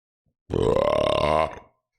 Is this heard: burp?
yes